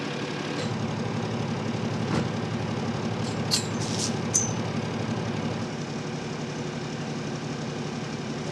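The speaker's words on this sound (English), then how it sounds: "it sounds like the truck is pulling up right now to move us" A truck engine idles with a steady rumble, a few faint clanks and squeaks over the low drone, as it pulls up to a boatyard to move a sailboat.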